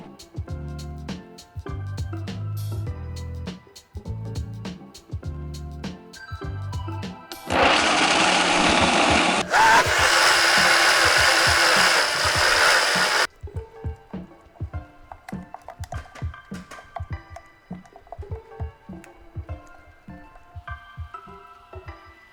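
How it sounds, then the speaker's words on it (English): Vitamix blender running on sauerkraut juice for vegan cheese: a loud, dense whirring roar that lasts about six seconds, pauses briefly and starts again, between quieter clinking and tapping sounds, with music in the background. "For this process, you're going to need a Vitamix. Yes, a Vitamix."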